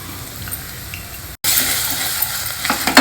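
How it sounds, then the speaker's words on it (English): Spices (turmeric, hing, Kashmiri chili powder and salt) fry with vegetables in a pan, stirred close by. A quiet hiss cuts out briefly, then returns as a louder, steady sizzle with no talking. "Mix everything well."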